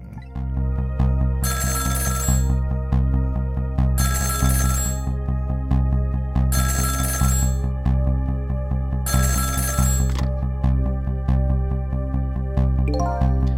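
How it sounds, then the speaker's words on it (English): A telephone rings in the video game Ghost Trick, four loud, regular electronic bursts over a sustained musical drone, close and clear, with no talking. "About 2 hours before dawn, the phone rang."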